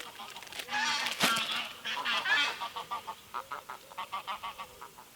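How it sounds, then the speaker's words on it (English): A flock of geese honking as they fly over a wild campsite by a canoe, several loud overlapping honks at first, then a rhythmic series of fainter calls fading as the birds pass. "That's the sort of thing I'm talking about, a flyby of geese."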